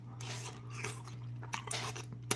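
Someone eating a leftover Chuy's burrito bowl, with close, soft wet chewing and small crunches over a steady low hum, and no talking.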